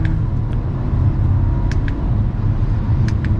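A 2022 Audi A4 S Line 45 turbocharged engine accelerates, heard from inside the cabin as a smooth, steady low drone with a few faint clicks, no voices.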